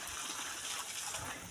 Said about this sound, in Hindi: ये देखो इतना तेज़ पानी आया हुआ है